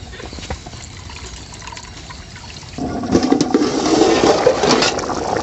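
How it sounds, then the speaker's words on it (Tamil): Soaked rice tipped into a pot of boiling water for chicken biryani, a sudden rushing, bubbling splash that starts midway and keeps churning loudly to the end. "இப்போ நம்ம கொதிக்கிற பிரியாணி தண்ணியில் வந்து நம்ம போடுறோம்."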